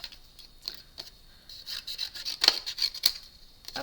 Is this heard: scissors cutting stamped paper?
yes